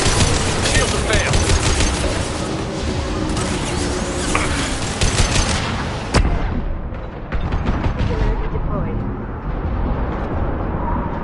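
Weapons fire in a Mass Effect space battle, dense rapid bursts and heavy blasts pounding continuously and loudly, with a sharp impact partway through before the barrage thins out.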